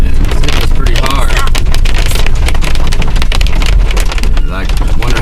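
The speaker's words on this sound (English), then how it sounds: "we ran into a hailstorm. We got ice on the windows, and hailstones all over the road here." Dense, loud drumming of hailstones pelting a car on a mountain road in Colorado, a relentless clatter mixed with road rumble and rushing wind.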